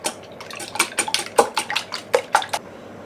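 Eggs seasoned with salt and Espelette pepper are whisked lightly in a bowl, giving a quick series of bright, clinking taps of utensil against dish, close and fairly quiet, in an uneven rhythm over about three seconds.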